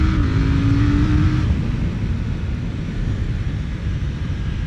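A KTM Duke 890R twin-cylinder motorcycle engine pulls hard in a rising rev at first, then settles into a steady loud drone under heavy wind rush, heard close from on board.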